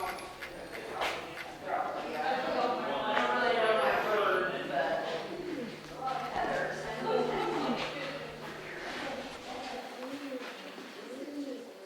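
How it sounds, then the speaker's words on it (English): Pigeons coo softly and repeatedly at the Rock House cave in Hocking Hills State Park while a person talks over them, with a faint birdlike chirp near the middle. "you'll be able to hear the pigeons. There's all these pigeons."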